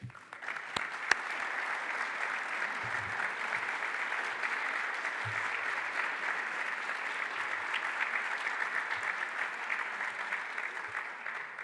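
A large audience at a governor's award announcement gives sustained, even applause that fills the room, with no talk over it.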